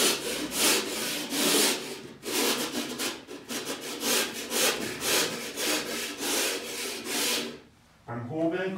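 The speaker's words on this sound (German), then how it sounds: "Beim Hobeln gucken, dass man den Hobel relativ waagerecht hält." Hand plane shaving the edge of plasterboard on a drywall ceiling box, a close series of rasping, scraping strokes in quick irregular rhythm that stop briefly near the end before a voice begins.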